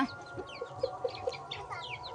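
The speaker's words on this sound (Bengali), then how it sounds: "কটা মুরগি গুনে দেখ তো" Chickens cluck in short, separate calls at a rural market, the calls spaced irregularly over a steady background hum with no talk.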